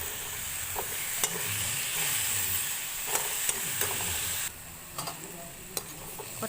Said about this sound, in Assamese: আৰু এইখিনি ভালকৈ ৰঙা হোৱাকৈ ফ্ৰাই কৰি ল'ম।